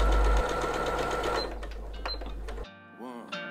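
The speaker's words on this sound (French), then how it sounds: "Alors là, vous allez coudre tout le long." A sewing machine runs steadily as it stitches fabric along the edge of a portable changing mat sewn from scraps, a loud continuous whir that stops partway through, leaving quieter clicks and handling noises.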